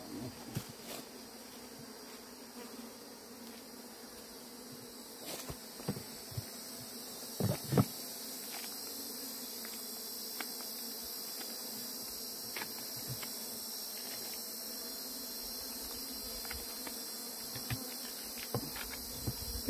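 A swarm of bees being moved into a hive, with a continuous high, buzzing insect drone and scattered sharp clicks and taps from the hive frames, steady and fairly close, with no voices.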